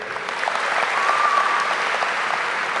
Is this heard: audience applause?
yes